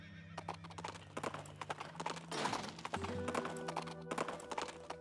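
Horse hooves clip-clop steadily in Princess Peach: Showtime!, a dense, quick run of hoofbeats with a whinny, mixed with game music and effects throughout.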